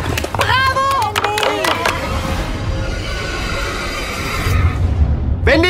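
A horse being ridden lets out a loud whinny, a shrill rising and falling call at the start, followed by a rumbling noisy stretch. Voices cry out near the end.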